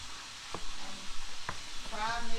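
Chicken wings fry in a pan with a steady close sizzle, broken by a couple of sharp utensil taps and stirring sounds.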